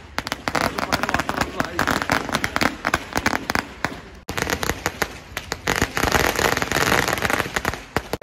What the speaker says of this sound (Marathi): दिवाळी तर संपलेली आहे, बट तरी पण फटाके फोडलेले आहेत